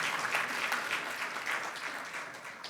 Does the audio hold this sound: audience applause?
yes